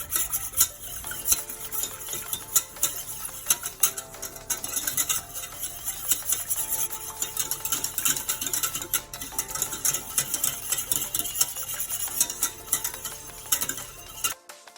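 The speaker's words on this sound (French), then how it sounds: "Ajoutez la maïzena et remélangez à nouveau pour éviter d'avoir des grumeaux" Cornstarch is stirred into a pizza sauce mixture in a bowl, with a busy run of rhythmic scraping and clinking of a utensil against the bowl for about fifteen seconds, close up and without talk.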